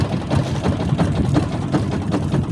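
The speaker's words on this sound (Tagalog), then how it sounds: "At yan makina" A boat engine runs steadily nearby, a loud continuous low rumble with a slightly uneven throb throughout.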